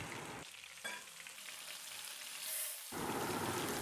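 Marinated chicken pieces fry in hot coconut oil with curry leaves for a spicy chicken fry. A steady, close broadband sizzle dips quieter through the middle, then swells loud again near the end.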